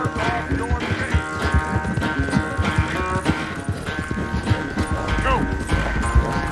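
Horse hooves clip-clopping in the video game Red Dead Redemption 2, a brisk continuous run of hoof beats on hard ground with faint tack and mechanical rattles, close and loud over a steady background.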